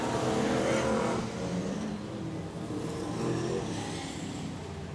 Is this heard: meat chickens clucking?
no